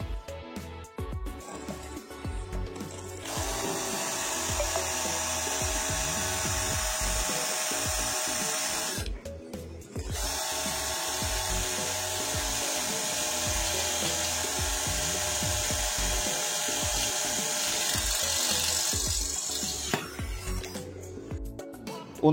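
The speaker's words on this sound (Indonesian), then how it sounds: "untuk mengebor besi holo ketebalan 1 cm di percepatan nomor 2" A Nanwei 42Vf cordless drill bores into 1 cm thick hollow iron at speed setting 2, giving a steady, loud, continuous grinding whine that runs for about twenty seconds with two short pauses where the motor drops out.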